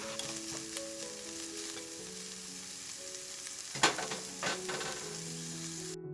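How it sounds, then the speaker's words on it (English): Precooked chorizo sausage sizzles with softened onions in a pan. A steady close-up frying hiss runs throughout, with clinks and scrapes of stirring and soft background music. "When you see that the onions is translucent like this and you can smell it, it's time to put in the sausage"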